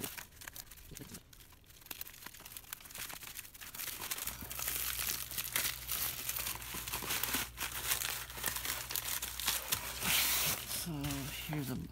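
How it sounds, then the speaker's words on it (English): A FedEx envelope being unpacked, with crinkling and rustling packaging close up, bursts of tearing and crumpling that grow busier partway through. "So let's start by unpacking this FedEx envelope."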